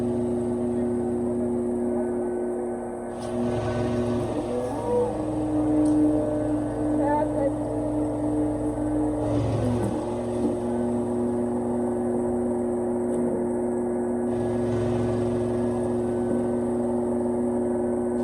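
Cat 380 excavator working against a sheet metal wall, a steady droning engine rumble with a constant hum that swells slightly now and then; someone talks over it throughout.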